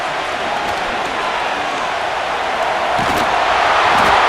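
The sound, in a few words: crowd cheering in Madden NFL 25 video game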